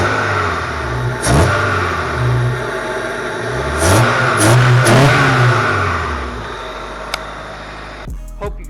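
A car engine revs up sharply several times after a throttle body spacer install on a snowy day, the bursts rising and falling over a steady idle, close and loud with no talking.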